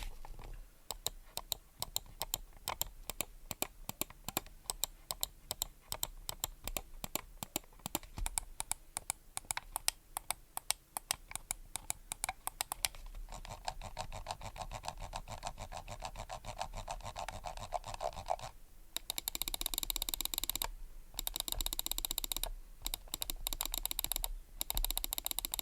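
Rapid clicking and tapping of a Rakk Talan Aero gaming mouse's buttons, dense and steady at first, then shifting to faster, rattly bursts with a few brief pauses near the end. No voices.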